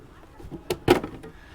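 A deck door on a Nordstar 33+ motor yacht shuts with two quick, soft knocks close by in a quiet space.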